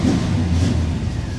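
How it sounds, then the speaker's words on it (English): A warmed-up car engine idling after an overheating fix with a new fan, a steady low rumble running continuously and fairly close, with no talk over it. "God, this car sounds so good."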